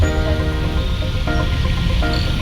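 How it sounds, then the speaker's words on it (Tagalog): Heavy rain pours down steadily in a dense, unbroken hiss, loud and close, during flooding at Kamias Road and Kalayaan Avenue. "Lakas ng ulan."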